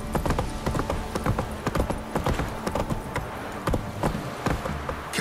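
Hooves of the horse Roach in The Witcher 3, a brisk, fairly close run of clip-clop strikes in an uneven trotting rhythm, alone without talk.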